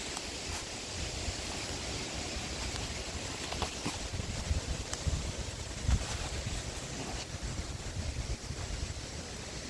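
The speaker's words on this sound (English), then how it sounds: "The trellis is just going back and forth because it's so windy." Strong gusty wind in a garden after Hurricane Lee buffets the microphone with a continuous rushing roar and occasional louder gusts, while a trellis rocks back and forth.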